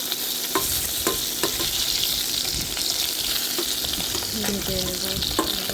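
Steady crackling sizzle of pabda fish in a spiced gram flour and rice flour batter frying in oil, close and unbroken, with light scraping and clinks from stirring and turning the pieces.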